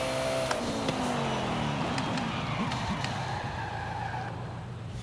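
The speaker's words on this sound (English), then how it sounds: "then we'll slam on the brakes." Koenigsegg One:1 in Forza Horizon 5 braking hard from high speed, a loud continuous tire skid and squeal with engine drone underneath, held steady throughout without pause.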